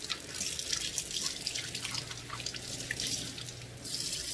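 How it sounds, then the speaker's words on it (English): Running tap water splashes into a kitchen sink as vegetables are rinsed, a steady faint hiss with small irregular splashes and drips, close by and without talk. "I'm just going to give them a really, really, really good rinse."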